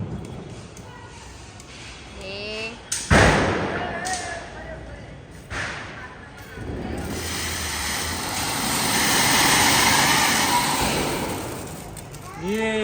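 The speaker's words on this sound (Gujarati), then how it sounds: "એના પપ્પા એન્જોય કરી રહ્યા છે ફટાકડા" Firecrackers going off outdoors during a festive night: two sharp, loud bangs a few seconds apart, then a long, rushing hiss of sparks that swells and fades, with voices chatting and calling out nearby throughout.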